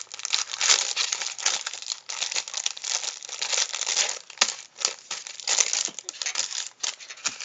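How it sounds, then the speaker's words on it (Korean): Powder packets from a grape-flavored Popin Cookin Nerunerune candy kit being torn open and handled, a near, continuous crinkly rustle of thin packaging with brief pauses, loud and dry throughout. "가루도 한번 뜯어볼게요"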